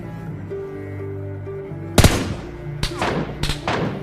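Bursts of MK rifle gunfire in a mobile battle-royale shooter game, a loud sharp volley at mid-clip followed by two shorter bursts, over steady background game music with no speech.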